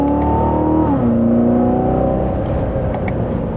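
Chevrolet Corvette C7 Z06 engine pulling through a gentle acceleration, a loud steady drone heard from inside the car that shifts down in pitch once as a gear changes, with no talk over it.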